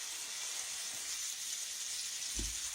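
Catfish fillets sizzle in a pan, fat side down, as a faint, steady hiss that goes on throughout, with one brief low knock near the end.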